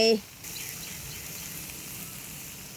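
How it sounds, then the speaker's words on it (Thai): Pork stir-frying in a pan with fermented fish (pla ra), a steady close sizzle that holds evenly after a brief opening clatter, for a Thai pumpkin curry. "แล้วเราก็จะมาลวนหมู ให้สุกสักหน่อยนึง"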